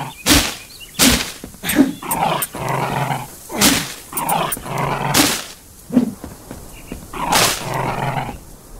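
A hostile dog in the survival game Dysmantle snarls and growls in repeated rough bursts, with sharp barks and impact-like hits between them, close and loud, and no talking.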